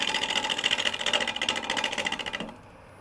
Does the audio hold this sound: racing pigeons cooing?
no